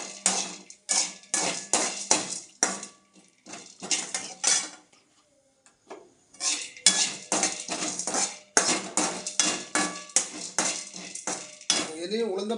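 Vatha kuzhambu ingredients are stirred in a metal pan, giving rapid repeated scraping and clinking of a spoon against the pan in quick bursts with short pauses. The sound is close and loud, with brief speech between strokes.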